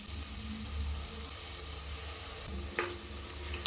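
Ginger garlic paste sizzling in a pan while being stirred for a vegetable biryani, a soft continuous fry with a couple of brief clinks of a utensil near the end, close and alone.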